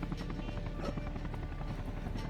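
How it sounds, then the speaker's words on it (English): A helicopter in the video game Arma Reforger drones overhead with a steady, loud rotor rumble that fills the whole moment without letting up. "What is that helicopter doing?"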